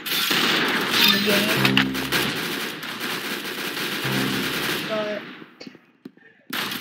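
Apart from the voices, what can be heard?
gunfire in a video game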